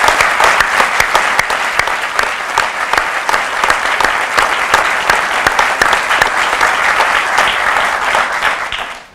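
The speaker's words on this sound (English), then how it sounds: "So let's give them a round of applause." A room applauds police officers at a Walnut Creek Police Department awards ceremony with loud, sustained clapping. Sharp, close individual claps stand out throughout the steady crowd applause, which trails off at the very end.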